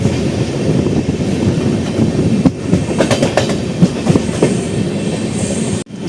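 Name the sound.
Kanyakumari Express train arriving at Pakala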